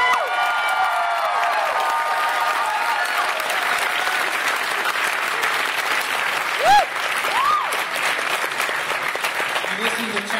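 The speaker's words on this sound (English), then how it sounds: "Our medics have done a great job this weekend, so give them a round of applause." Sustained applause from a crowd at an event honoring the medics, steady dense clapping for about ten seconds with a couple of whoops and light cheering mixed in, under some background talk.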